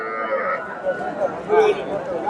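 A young heifer and other cattle low at a cattle market, a drawn-out moo rising over a noisy crowd with shorter calls following.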